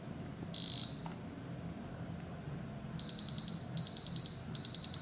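A diamond tester set directly on a moissanite stone gives one short high beep, a pause, then a fast rhythmic run of repeated electronic beeps over quiet room noise.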